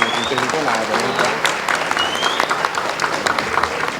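Audience at a SERJUSMIG union event applauding honored guests, a sustained round of hand clapping filling the room, fairly loud and close, with voices talking over it.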